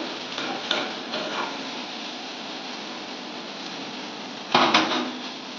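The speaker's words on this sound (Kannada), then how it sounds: "ಈರುಳ್ಳಿ ಸ್ವಲ್ಪ ಫ್ರೈ ಆಗೋ ಮಟನ್ ಫ್ರೈ ಆಗ್ತಾನೆ ಇರಬೇಕು." Onions frying in a pan with mutton, a steady close sizzle with a few stirring scrapes and clinks, and a louder burst of stirring near the end.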